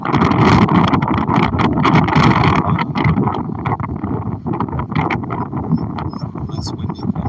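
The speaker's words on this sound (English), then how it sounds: "Less windy, please." Strong wind buffets the microphone on a beach at Juno, Florida, in a constant rough roar with gusty bursts, while a person talks over it.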